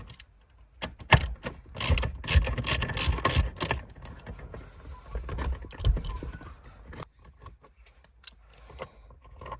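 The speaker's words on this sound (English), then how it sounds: "we remove the two 10mm bolts down at the bottom of the center console here" A hand ratchet clicks in quick bursts, loosening two 10mm bolts at the base of the center console in a Mitsubishi Challenger or Triton. Clattering handling noises are mixed in, loud in the first half and sparser toward the end.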